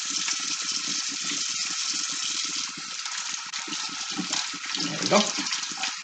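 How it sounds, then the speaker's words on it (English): Tap water runs steadily into a sink during handwashing in a kitchen before jam making, a continuous broadband wash with a short spoken remark near the end. "So I'm going to wash my hands really well."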